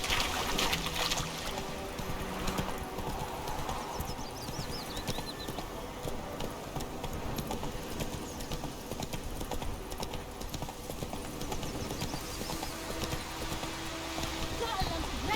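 Horse hooves galloping in The Witcher 3, a steady clip-clop rhythm running throughout at moderate volume, with a brief spoken voice over it.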